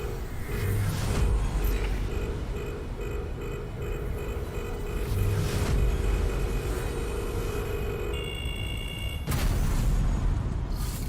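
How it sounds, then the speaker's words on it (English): A game explosion in the strategy game Into the Breach booms as a sustained rumbling roar with deep bursts and a sharp cutoff near the end, heard alone without talk. "What an explosion."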